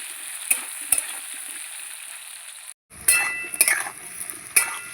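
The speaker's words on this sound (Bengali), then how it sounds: "এবার আলুটাকে ভালো করে ভেজে নেব।" Potatoes fry in hot oil seasoned with bay leaf, salt and turmeric while being stirred for a Bengali chitol fish dish. The sizzle is steady, broken by a brief silence and by sharp clinks of a spatula against the pan.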